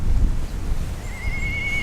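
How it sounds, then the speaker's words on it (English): An old farm horse whinnies once in the distance, a thin high call that rises out of rumbling outdoor wind noise partway through and trails off faintly. "That's one of our old horses."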